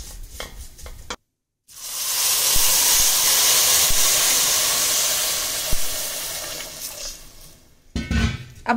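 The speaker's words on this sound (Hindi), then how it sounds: "अब हम इसमें डाल दिए हैं पानी, इसको हम बॉईल करेंगे।" Water poured into a hot pan of frying vermicelli for a vegetable pulao, bursting into a loud, sustained hiss and sizzle of steam that slowly fades, with utensil clatter before and after.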